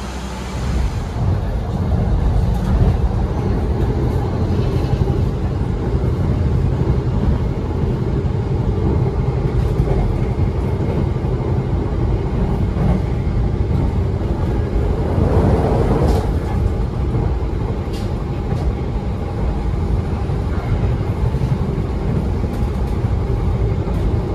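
Steady rumbling drone from inside the Joglosemarkerto economy passenger train between Yogyakarta and Cilacap, wheels running on the rails with a constant low roar and faint rattles throughout.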